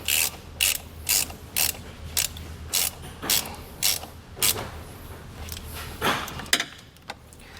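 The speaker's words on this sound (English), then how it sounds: "Once you have that on the bolt, you can then tighten this down." Bolt on a wiring harness ground being tightened down during a Curt T-connector install on a 2021 Ford Bronco, heard as a steady series of sharp ratchet clicks in short bursts, close and alone.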